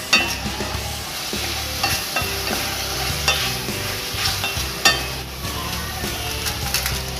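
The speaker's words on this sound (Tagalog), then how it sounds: "So igisa muna natin itong mga Koblox." Chayote being sautéed in a pan for chicken tinola: steady oil sizzle with repeated scraping stirs and light utensil clacks against the pan, close and alone.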